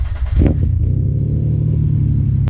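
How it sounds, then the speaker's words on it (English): A car running on E85 ethanol fuel cranks briefly and fires, then settles into a loud, steady low idle close by with no talking, ending on a sharp click. "I'll fire the car up and let him start learning."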